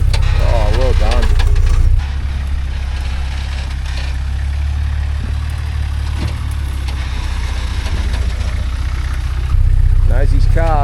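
Off-road competition truck engine idling and straining in low, heavy tones while the truck climbs a rock wall, loud and steady with louder surges at the start and end.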